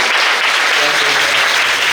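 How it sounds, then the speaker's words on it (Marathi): A congregation at a Sunday prayer meeting claps loudly and continuously together, a dense, close wall of applause with no pauses. "जोरात जोरात टाळ्या देऊन देवाचं स्वागत करा तुमच्या आयुष्यात"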